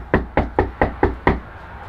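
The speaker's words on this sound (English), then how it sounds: "Let's go knock on his door." Six firm knocks on a house's front door, evenly spaced about a quarter second apart, close and loud with no talking.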